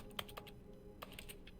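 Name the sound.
keyboard typing sound from video game The Stanley Parable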